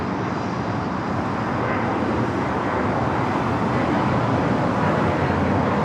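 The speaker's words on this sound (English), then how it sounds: "Little Challenger here on taxiway Alpha" A Bombardier Challenger jet taxis on taxiway Alpha at LAX at night, giving a steady, broad engine rush under a constant airport background hum.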